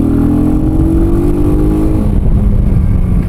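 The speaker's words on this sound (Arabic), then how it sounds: "وبغينا نتيستيو لكم هذا الموتور هذا الاخوان" A Sanya R1000 motorcycle engine revs loudly up close, its pitch rising and then settling into a rough, clattering idle-like rumble over about three seconds.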